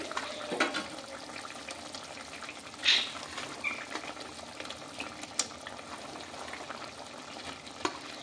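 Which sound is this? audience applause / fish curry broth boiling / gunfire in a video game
fish curry broth boiling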